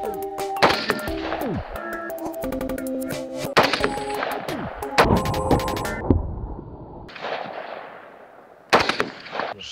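Hunting rifle shots ring out against a metal target, sharp clanging impacts with ringing tones and echoes, several in sequence with quiet gaps between them.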